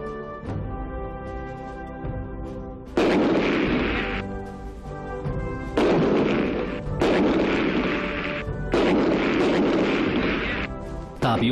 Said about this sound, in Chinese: 士兵使用五六式半自动步枪进行了50发速射